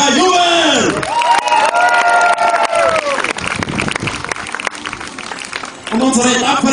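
Spectators at a medieval festival tournament at Riegersburg cheering and whooping as combatants are announced, a loud, dense crowd roar with shouts and applause while a voice calls out over it.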